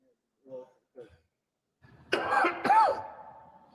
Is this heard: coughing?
yes